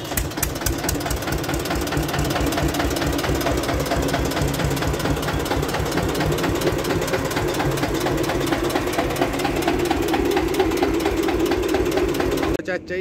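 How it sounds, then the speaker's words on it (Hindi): A steady, rhythmic diesel engine of an antique 1975 Eicher tractor idles close by with a fast knocking chug, loud and unbroken for nearly the whole stretch. "देख लो भाइयों, कितनी शानदार आवाज है ट्रैक्टर की।"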